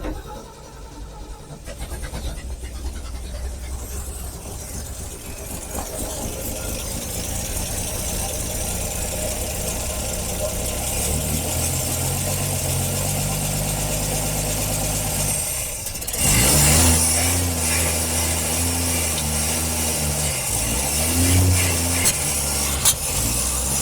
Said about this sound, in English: she backfiring out the carburetor